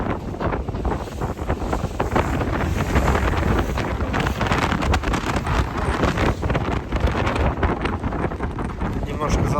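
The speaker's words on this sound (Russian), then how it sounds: "Ух, ветрище-то." Strong wind buffets the microphone aboard a river boat on the Lena, a loud, gusty roar with water and motion noise beneath it, while someone speaks over the blustery rush.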